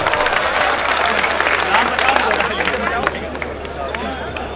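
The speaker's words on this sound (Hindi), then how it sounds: "पुरजोर ताली में इस्तकबाल कीजिए।" Dense, sustained applause from an audience at a Hindi-Urdu poetry recital, loud and close throughout with crowd murmur and scattered voices mixed in.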